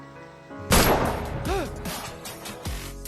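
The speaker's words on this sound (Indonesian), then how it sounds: "Khalid lalu menembak kepalanya sendiri" A film scene in which a man shoots himself in the head: one loud, sharp gunshot blast with a ringing, warbling tail, followed a couple of seconds later by a heavy thud.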